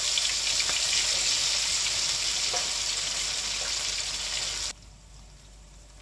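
Oil crackles and sizzles steadily as tempeh chips fry in a wok, then the sizzle drops sharply quieter near the end.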